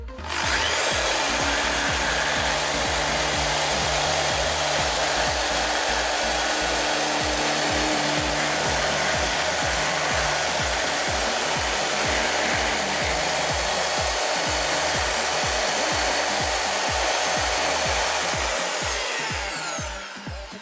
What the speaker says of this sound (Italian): utilizzeremo un trapano per andare a pulire il tutto e aumentare un secondo il buco